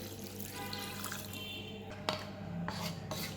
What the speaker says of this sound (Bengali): এবার আমি এর মধ্যে 2 কাপ নারকেলের দুধ দিয়ে দিচ্ছি